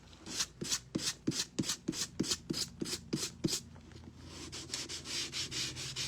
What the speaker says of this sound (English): I will sand the parts I cut to make them smooth.